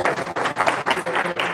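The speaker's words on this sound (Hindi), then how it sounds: "एक बार जोरदार हाथों से तालियों का सेवा" An audience applauding at a devotional gathering with a swami, dense bursts of clapping that rise and dip in short waves, close and loud.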